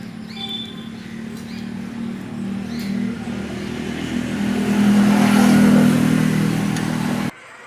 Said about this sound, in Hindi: अब इसे किक मार कर ये चेक करते हैं कि इसकी लाइट ऑन हो रही कि नहीं